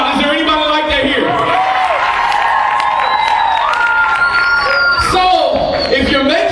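A large crowd of teenagers and twenty-somethings at a lively worship gathering cheers, whoops and shouts continuously at loud volume, with voices overlapping throughout.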